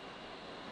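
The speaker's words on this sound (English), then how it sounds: "Yeah, that's a plane." Aircraft engine in the flight simulator game DCS, a steady broadband roar holding at even loudness through a brief moment, no speech.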